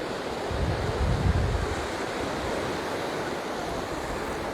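Steady surf washes onto the beach at Westward Ho!, a continuous broad roar of breaking sea waves mixed with wind buffeting the microphone, with no voices.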